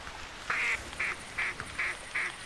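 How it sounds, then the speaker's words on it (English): Duck in theHunter quacking five times in a short, evenly spaced series, each call clear and fairly loud over quiet outdoor background ambience. "I hear ducks."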